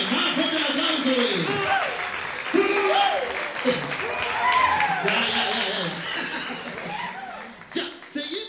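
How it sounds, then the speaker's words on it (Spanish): A crowd at a national cueca championship in Valdivia keeps up loud, sustained applause and cheering while a voice talks over it through an amplified system. "¡Más fuerte el aplauso!"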